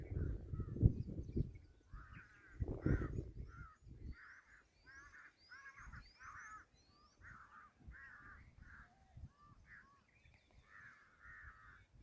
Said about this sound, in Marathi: पक्षी सकाळीच अन्नाच्या शोधात